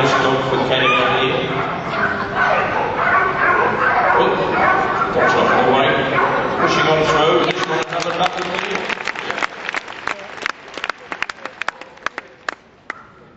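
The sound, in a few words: working sheepdog barking at Crufts competition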